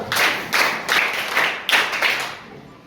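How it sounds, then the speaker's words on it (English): A class of schoolchildren during a maths lesson clapping in a patterned rhythm, about seven crisp bursts of group claps in quick succession at a moderate distance, with no talking over them. "Clap yourself"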